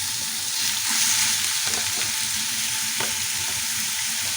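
Minced meat kefta sizzles and fries in a pan with softened onion, a steady loud crackle with a few sharper pops and stirring scrapes, no voices.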